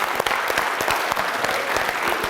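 An audience at a school show in Baghdati for top students applauding a pupil, continuous even clapping from a crowd close by, with no talking.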